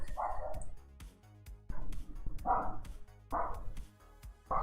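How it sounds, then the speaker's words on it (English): A pet dog barks repeatedly in short bursts in the background of an indoor room, loud and insistent, with pauses between each cluster of barks. "in the background barking like a maniac"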